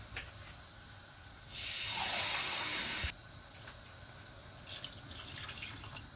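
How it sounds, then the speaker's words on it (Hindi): About two cups of water poured into a pot of chicken and potato masala make a brief, loud rushing splash lasting under two seconds, followed by quieter sizzling and bubbling from the pan. "अब इसमें मैं डालूंगी तकरीबन 2 कप वाटर"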